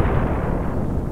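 Edited-in explosion effect: a dense, low, rumbling blast that fills the whole moment with steady booming roar and no speech over it.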